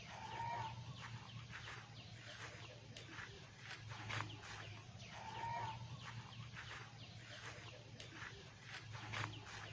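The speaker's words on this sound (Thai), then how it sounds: "คอกเป็ดคอกไก่" Chickens in a coop on a small farm with duck and chicken pens cluck steadily at moderate distance, with a few louder calls and some faint human voices mixed in.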